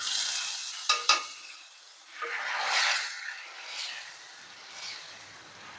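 A tempering of garlic and asafoetida sizzles as it is poured into a tamarind curry of bottle gourd and black-eyed peas, giving a close, hissing burst with a couple of sharp pan knocks, then fading in softer waves.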